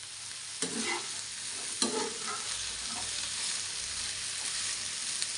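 Okra and potato stir-fried in a pan with curry leaves, a steady sizzling hiss broken by a few sharper scraping stirs of a spoon, close and moderately loud, with no talking.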